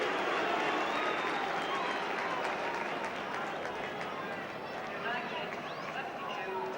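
A football stadium crowd applauds as Manchester United substitute Sammy McIlroy comes on, a broad, steady roar of clapping and cheering that holds for several seconds, with commentary heard over it.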